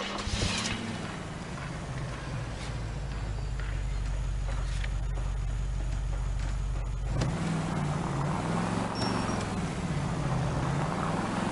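A car in L.A. Noire drives along with a steady low engine drone, a shift in engine tone midway as it picks up pace, heard loud and close with no talk over it.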